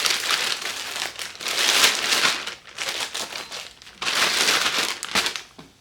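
Bags of brown sugar are pushed into a larger Ziploc bag, filling the moment with loud, close plastic crinkling and rustling in long bursts that rise and fall.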